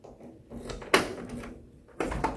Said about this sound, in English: And now I'll lock it with the key.